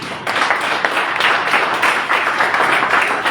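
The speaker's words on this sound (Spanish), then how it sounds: "Denle un aplauso al Rey." A church congregation applauding together, a dense, loud and sustained clapping that fills the room without a break.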